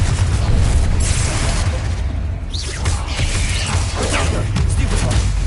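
Confringo spell explosions in the Hogwarts Legacy video game combine loud booms with crackling, mechanical bursts in a continuous, dense battle din with no quiet gaps.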